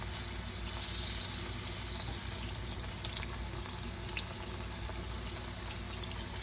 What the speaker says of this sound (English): I guess I gotta do 2 batches because I'm frying 2 bananas